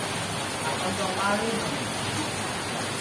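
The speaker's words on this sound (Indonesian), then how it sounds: "kehadiran kita di tengah rintiknya hujan yang cukup besar ini" Fairly heavy rain falls steadily outdoors during a religious gathering, a constant broadband hiss that fills the whole clip, with faint voices murmuring beneath it.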